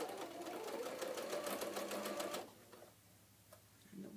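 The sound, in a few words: sewing machine backstitching fabric face mask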